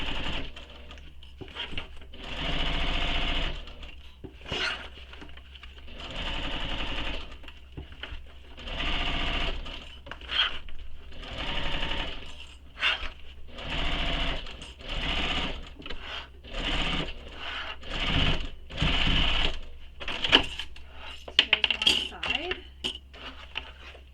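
A sewing machine bastes a bowler bag lining with a long stitch, running in repeated whirring bursts of a few seconds each, separated by pauses with small clicks and clinks.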